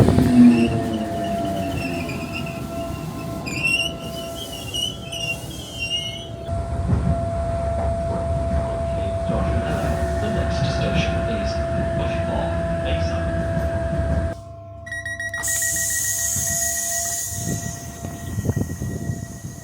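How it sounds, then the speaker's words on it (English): A commuter train pulls into Bayside station on the Howth branch line. A rolling rumble and a steady tonal whine are joined by brief horn-like tones, and the sound changes abruptly partway through as the train draws in. "let's film my train arriving"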